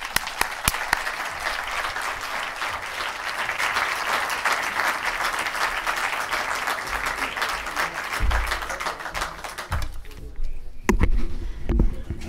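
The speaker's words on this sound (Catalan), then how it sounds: "Un fort aplaudiment!" Strong crowd applause at a political primaries presentation in Reus, dense continuous clapping that tapers off near the end as a voice starts.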